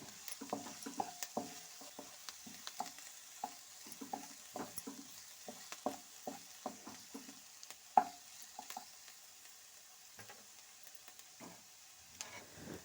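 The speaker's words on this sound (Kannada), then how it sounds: "ಈ ನೀರುಳ್ಳಿ ಕೆಂಪು ಬಣ್ಣ ಬರುವವರೆಗೂ ಇದನ್ನು ಹುರಿಬೇಕು" Three medium onions frying in a pan for egg masala, a faint steady sizzle broken by repeated soft scrapes and taps of a stirring spoon, close and alone.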